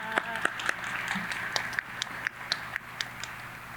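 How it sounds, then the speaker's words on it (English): An audience at a panel discussion on designing cities for women breaks into steady applause, a dense run of clapping with a few sharper individual claps standing out, sustained for several seconds at moderate volume. "Let's give her a round of applause as well."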